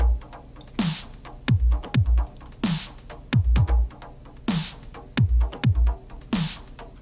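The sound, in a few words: drum sample loop in Bitwig Studio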